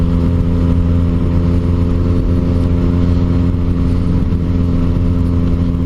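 A motorcycle rides along dry country roads in the South Wiltshire countryside, its engine droning loud and steady throughout, close up, with wind rushing over it.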